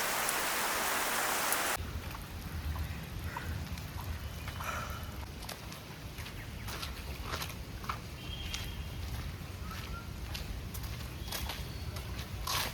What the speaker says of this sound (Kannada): It's raining in Kalyan Nagar.